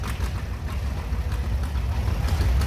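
A 1963 Allis-Chalmers Model D10 tractor engine idles along in an antique tractor parade in Georgetown, giving a steady, close low rumble with faint knocking pulses and no voices over it.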